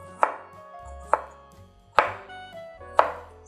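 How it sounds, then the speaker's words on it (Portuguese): A knife chops through an onion on a cutting board in four distinct, crisp strokes about a second apart, each a sharp, close thud, with no voices. "E depois vai cortar ela lateralmente, fazendo esse movimento de vai e vem, até finalizar toda a cebola."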